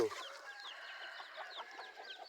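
Chickens squabble and cluck in rapid, agitated bursts close by, apparently fighting, in a rural yard at a temple in Chae Hom, Lampang, with a steady ambient hum behind them.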